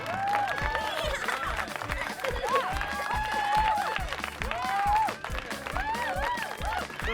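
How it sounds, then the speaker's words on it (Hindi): Cartoon audience applause and cheering at a society's annual function: a dense, continuous burst of clapping mixed with excited voices, loud and steady throughout. "तालियां।"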